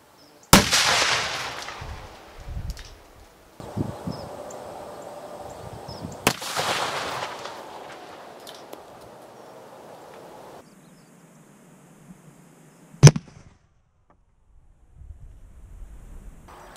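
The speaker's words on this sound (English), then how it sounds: "The first one is the Detcord nut mine. This one has three wraps of Detcord and a good number of nuts." A Vietnam-era detcord nut mine, three wraps of detonating cord packed with nuts, goes off outdoors in one sharp loud blast that rolls off into a long rumbling decay over wind noise. A second sharp crack comes later.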